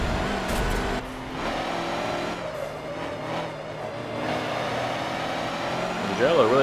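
Racing truck in the video game Forza Motorsport 7 revs with a steady droning engine note that rises and falls, with a louder burst near the end; someone talks over parts of it.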